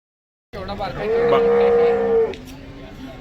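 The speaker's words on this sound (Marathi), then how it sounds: "तर आता आपण जनावर बाजारामध्ये आलेलो आहे." A cow lets out a single long, low moo, close and loud, amid the bustle of a crowded outdoor cattle market where Jersey bulls are sold.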